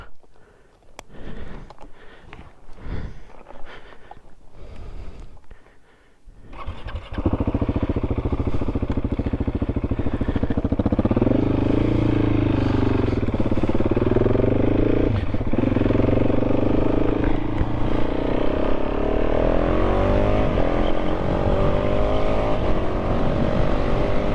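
KTM 690 SMC-R single-cylinder motorcycle on a test ride: after quieter rustling, the engine fires up into a loud, continuous rasping drone with rising and falling revs and wind noise, close and steady for the rest.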